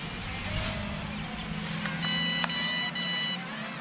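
Transmitter of a cheap DM002 ready-to-fly FPV drone sounding short beeps as the flip button is pressed, several brief tones over steady outdoor background noise.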